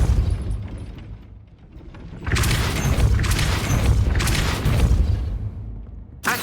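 The Depulso repelling spell cast in Hogwarts Legacy lands as a booming magical blast with a mechanical clatter, after a quieter opening with light chimes and a fresh thud right at the end.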